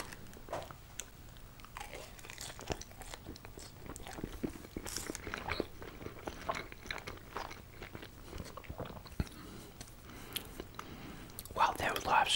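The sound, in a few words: eating cheesy fries with bacon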